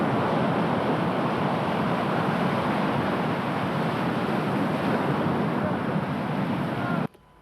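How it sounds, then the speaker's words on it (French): Large ocean waves roar in a steady, loud wash of surf and wind noise during kitesurfing, continuing without break before cutting off near the end. "dans des monstres vagues comme ça, on a toujours une petite frayeur"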